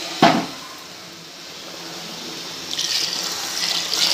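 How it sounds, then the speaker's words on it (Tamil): Mutton stock pours steadily into a pot of biryani rice, a brief splash at the start and a brighter rushing pour toward the end, with no talking. "இப்போ மட்டன் வேக வச்ச தண்ணியை நம்ம இதிலே சேர்த்துக்கலாம்"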